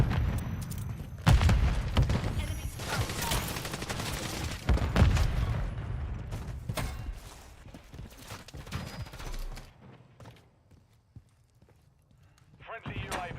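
Grenade explosions and bursts of gunfire in the Call of Duty MWIII Warzone video game, a dense, loud barrage of booms and shots layered under in-game voice callouts, fading out near the end.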